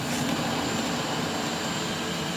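A street vacuum blower used to pick up catalytic converter platinum runs loud and close, a steady roaring whoosh of rushing air with a constant engine whine and no variation, no voices over it.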